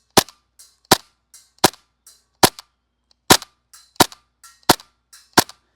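Vorsk VMP-1 airsoft gun firing BBs at a body-size target about 70 feet away, a sequence of about a dozen sharp, snappy single shots in an uneven rhythm, each followed by a faint tick, with no talk.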